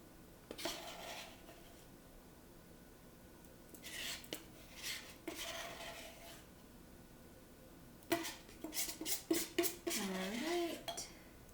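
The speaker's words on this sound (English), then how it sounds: "So scrape the sides of the dish" A utensil scrapes and clinks against a dish while brownie batter is gathered from its sides, in short bursts separated by quiet pauses, busier and louder toward the end.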